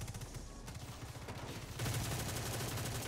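Automatic gunfire loaded with volatile rounds rattles in a fast shooter video game, one sustained burst of rapid shots that grows louder and denser partway through, with no voices over it.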